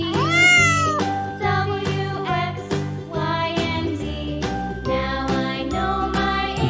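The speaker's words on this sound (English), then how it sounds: "Nice cat." A cat meows once, with a rising then falling cry near the start, over bright, jingly children's music that continues throughout.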